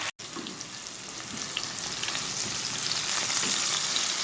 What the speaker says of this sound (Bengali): বেশ কিছুক্ষণ একটু এটাকে ভেজে নেব আমি